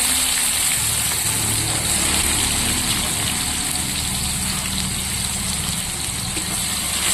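Chopped onions sizzle in hot oil in a kadai, tossed in with whole cumin, whole garam masala and bay leaf, a dense, steady frying hiss that stays loud and even throughout.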